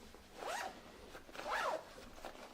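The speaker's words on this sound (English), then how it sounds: "Again, double zipper pull" Two quick, close zipper pulls run along a double zipper on a Timbuk2 Command 32L laptop backpack, each a crisp rasping stroke against a quiet room.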